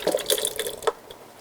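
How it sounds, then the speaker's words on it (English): Liquid is poured slowly from a container into a blender while making a plant-based recipe, giving a short splashing, trickling stream that ends with a brief drip, close and fairly quiet. "Pour it slowly into the blender."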